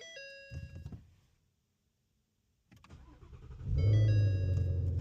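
A Ford Mustang GT350 starts after an oil change: chimes and clicks, a short silence, then the starter cranks and the engine catches into a loud, steady idle close by.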